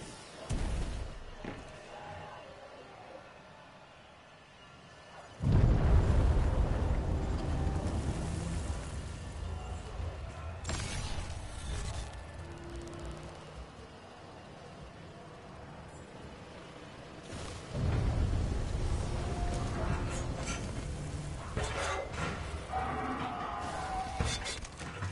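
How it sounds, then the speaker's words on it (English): Titanfall 2 gameplay with a series of heavy explosions: deep booming blasts erupt near the start and again later, followed by rumbling debris and crackling noise over a quieter background. "Series of explosions just weakened the manipulator arm"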